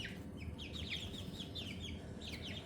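Backyard chickens clucking inside an unheated garage enclosure on a cold day, a steady stream of soft overlapping clucks and chirps at moderate distance over a constant low background rumble.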